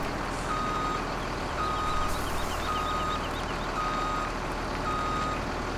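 Truck reversing alarm beeping in a steady repeated rhythm while a vehicle backs up to an unloading spot in the Farming Simulator 17 video game, over a constant engine drone.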